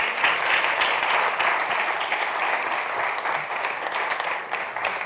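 An audience at a panel discussion on public media applauds in a dense, steady wash of many hands, sustained loudly for about five seconds without talk.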